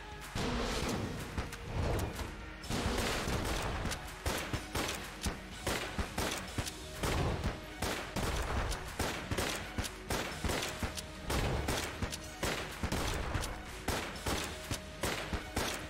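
Gunfire rings out in the video game Enter the Gungeon as rapid, repeated bursts of loud shots in a fairly regular rhythm, interleaved with explosions and game effects, with no voices.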